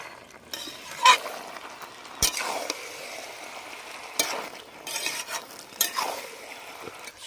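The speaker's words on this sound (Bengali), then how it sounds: "শিম বেগুন ভালো করে আমি মিশিয়ে দিচ্ছি।" A spoon stirs fried flat beans and eggplant into a pan of boiled potato, cauliflower and dried lote fish curry, scraping metal strokes and clinks at irregular intervals over a soft steady sizzle.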